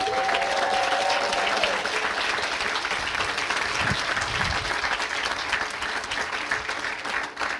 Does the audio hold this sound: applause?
yes